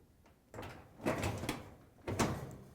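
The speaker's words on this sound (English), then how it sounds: "you can lift the door" A few dull knocks and scrapes of a Maytag dryer door being lifted off its hinge pins up close, with two louder bumps about a second apart and no talking.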